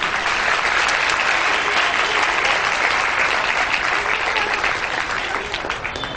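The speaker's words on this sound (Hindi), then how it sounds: "पूरे युवा मंच की कमेटी के लिए जोरदार तालियां" A large audience at a youth forum event bursts into loud, sustained applause for the organizing committee, dense clapping that stays steady for several seconds without talk.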